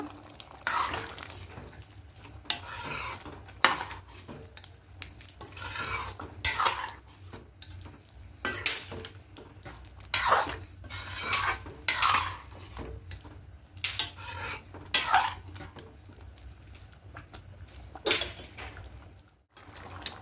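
Vegetarian atap-rice khichuri with sugar is stirred in a pot. A spoon makes repeated rhythmic scraping and clinking strokes against the metal, close and without talk.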